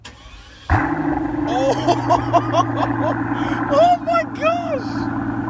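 A Mercedes car engine starts abruptly and then revs loudly and repeatedly nearby, with rising and falling throttle blips. Excited voices exclaim over the engine noise.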